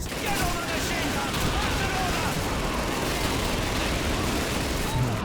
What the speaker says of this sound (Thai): โอ้โดนยิงหนักเลย